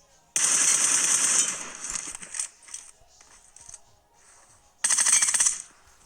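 Scoped rifle firing in a shooting video game, two loud sustained bursts of rapid automatic shots separated by quieter scattered clicks and faint game sounds, close and sharp.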